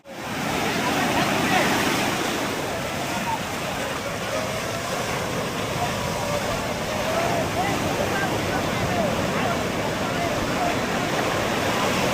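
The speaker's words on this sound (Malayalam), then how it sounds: "വലിയ തിരമാല കിട്ടുന്നുണ്ട്." Large ocean waves at Varkala beach roll and crash in a continuous, loud broadband roar, with wind buffeting the microphone and no clear breaks between swells.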